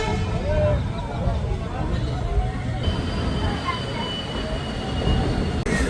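A train rumbles steadily along the rails with a continuous loud roar and faint high squeals, heard from close by.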